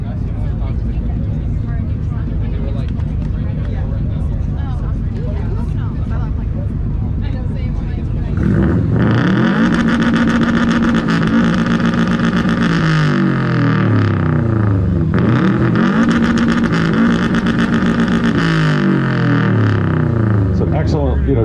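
A 2012 Subaru STI at an outdoor car-meet exhaust competition starts up about eight seconds in, then revs loudly and repeatedly with rising and falling bursts. Crowd chatter runs underneath the engine.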